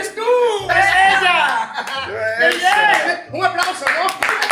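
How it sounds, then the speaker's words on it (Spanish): Laughter and clapping during a party drinking game, close and loud, with voices chuckling and calling out over a few bursts of hand claps. "¡Un aplauso, ¿no?"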